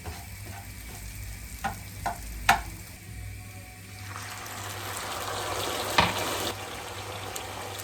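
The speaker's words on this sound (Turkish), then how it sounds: "Bir bardak tavuk suyu ekleyeceğim." Hot chicken broth poured into a pan of sautéed chicken, giving a loud liquid splash and sizzle that swells midway, with stirring clinks and scrapes throughout.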